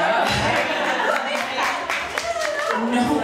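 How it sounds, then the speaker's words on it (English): Audience applause at a live women's panel event, scattered hand claps close by with distinct individual smacks, mixed with laughter and chatter from people talking over it. "We should applaud that."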